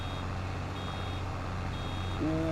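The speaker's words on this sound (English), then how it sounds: "Now it's just teasing us by beeping." A vehicle in Farming Simulator 22 sounds a steady repeating reversing beep over a low engine hum, the beeps evenly spaced and moderate in level, with no talking.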